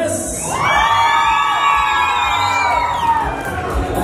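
Crowd at a norteña dance contest in Fort Worth, Texas, cheering, whooping and shouting for a competing couple, a loud sustained roar with high yells rising and falling throughout.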